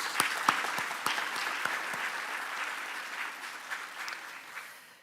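Warm applause from a conference plenary session audience at the University of the Free State, full and steady at first, then gradually fading away over about five seconds.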